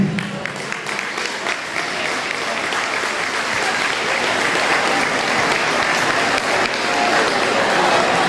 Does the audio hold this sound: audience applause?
yes